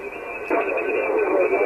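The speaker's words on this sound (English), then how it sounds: "In the background you can hear that signal that's a little bit off frequency." A slightly off-frequency interfering signal bleeds through an amateur radio receiver during a contact. It is a steady, band-limited hiss and warble that jumps louder partway through and continues as a distorted, muffled drone.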